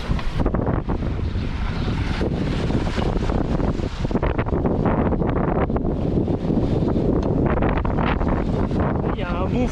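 A force 5 wind blows across a sailing boat off Sardinia as it makes about 7 knots, a loud constant roar of gusts buffeting the microphone over rushing water, with a voice speaking faintly in the background.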